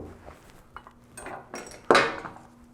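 Metal parts of a 40mm saluting gun breech click and clink as the sear and sear spring come out, a few light taps followed by one sharper metallic clack near the end, close and brief.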